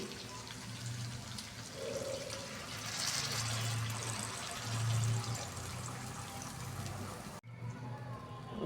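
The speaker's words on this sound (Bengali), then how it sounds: "এখন আমি এটাতে জল দিয়ে দিব" Water poured into a pan holding fried rohu fish head and rice, a continuous splashing pour with low bubbling gurgles that ends abruptly near the close.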